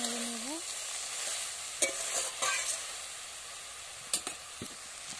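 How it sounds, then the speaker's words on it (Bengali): Turmeric and chili powder sizzle in a hot pan, with a steady frying hiss broken by several sharp spoon scrapes and knocks during stirring. "দিয়ে দিচ্ছি হলুদের গুঁড়ো, লঙ্কার গুঁড়ো, দিয়ে আমি একটু ভালো করে নেড়ে নেব।"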